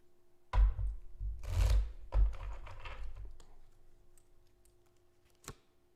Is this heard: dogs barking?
no